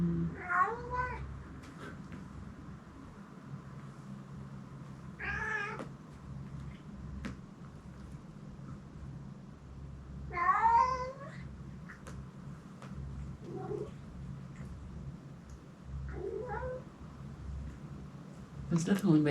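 Stray cats in an abandoned mountain building give mating calls, several drawn-out wailing yowls spaced apart over quiet background hum, some close and loud, others fainter, with people talking in between.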